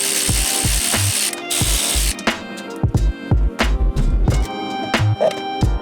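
A hand ratchet works loose the mirror mounting bolts on a Toyota AE92 Corolla, loud close clicking bursts in short irregular runs with brief pauses between strokes.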